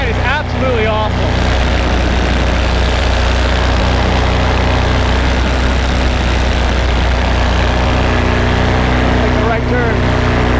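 A Virus paramotor engine running steadily in flight, giving a loud, continuous droning hum with a strong low tone. Wind roar runs under it from start to finish.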